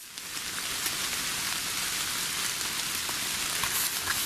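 Outdoors at night, rain falls with a steady, dense hiss of drops pattering on surfaces, close and continuous throughout without any voices.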